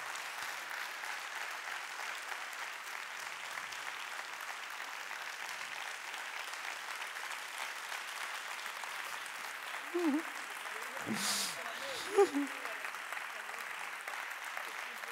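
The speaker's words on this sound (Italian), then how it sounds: "Adesso vi chiedo un grandissimo applauso per questi angeli" Steady, sustained applause from a large audience, an even wash of clapping throughout, with a few brief voices or thumps near the end.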